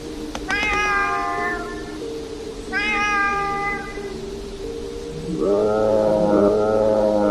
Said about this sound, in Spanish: Emitió un sonido extraño, algo entre un gruñido y un chillido.